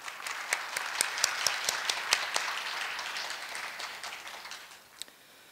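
Warm audience applause at a Korea University professors' retirement ceremony, a steady patter of many hands with some sharp individual claps standing out, fading slightly toward the end.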